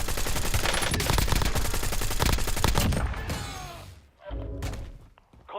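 Video game gunfire erupts in a loud, rapid automatic burst lasting about three seconds, followed by a few scattered thuds and shots that trail off into quieter, fainter impacts.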